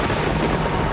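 A broad, steady rumble of thunder rolls on without a break, loud and close, with no voices over it.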